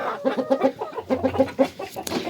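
Chickens cluck in quick, close bursts in a backyard coop, with a rooster among them; the hens' choppy calls repeat steadily, with no talking.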